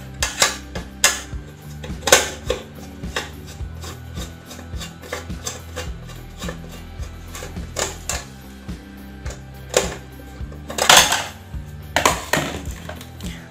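A screwdriver works open a Toshiba 1.8-litre electric rice cooker that has lost power: close, loud scraping, rasping and clattering of metal and plastic parts, with repeated sharp knocks over about thirteen seconds and no talking.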